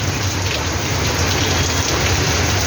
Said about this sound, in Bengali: অতিরিক্ত বৃষ্টি হচ্ছে